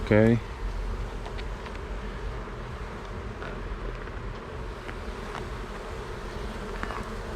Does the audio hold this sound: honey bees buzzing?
yes